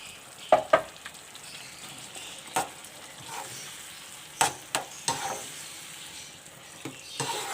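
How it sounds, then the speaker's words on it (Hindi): Tomato chutney batter stirs in a pan with a soft sizzle underneath, broken by intermittent scrapes and knocks of the spoon, close up with no talking. "अब मैं इसे 5 मिनट तक भूनूँगी।"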